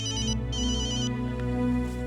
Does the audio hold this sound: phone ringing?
yes